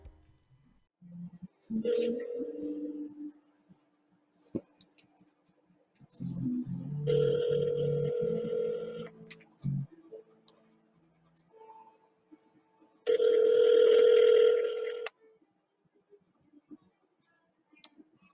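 Telephone ringback tones on a call line, two long buzzing rings several seconds apart with quieter clicks and line noise between them.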